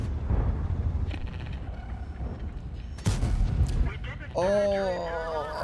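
Tank cannon shots in World of Tanks, with a few heavy booms rolling out under someone talking, and a sharp blast near the middle.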